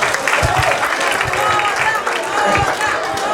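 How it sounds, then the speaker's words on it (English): Audience applause at a 2022 cultural festival performance, a steady dense wash of clapping from a crowd with faint babble mixed in, continuous and fairly loud throughout. "Give yourself a round of applause."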